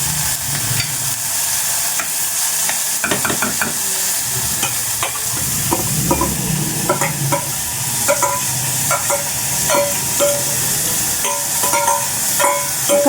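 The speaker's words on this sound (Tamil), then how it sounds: "நல்லா வதங்கணும்." Chopped onions sauté in a pan with a loud, continuous sizzle. Repeated scraping and clinking of a spatula stirring them runs throughout.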